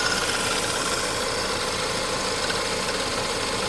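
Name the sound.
Chevrolet Malibu engine with failed AC compressor clutch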